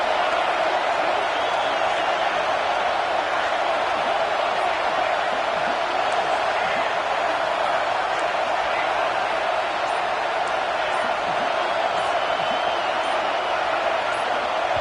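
A loud, steady roar of a stadium crowd at a Florida Gators football game fills the whole stretch as a dense, unbroken wash of noise.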